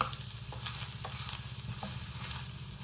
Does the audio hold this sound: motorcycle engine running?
no